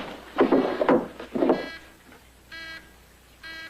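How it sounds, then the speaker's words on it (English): Telephone ringing indoors, two short electronic ring bursts following a man's speech, fairly close and clear. "Your phone's ringing."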